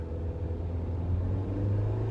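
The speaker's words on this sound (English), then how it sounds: "as you can hear, it's a piece of crap gas car." A steady, low rumbling gasoline car engine idles close by, even and continuous with no talking.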